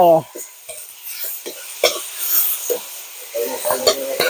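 Gourd stir-fried with egg in a pan gives a soft sizzling hiss and scraping stirs beneath a person talking throughout.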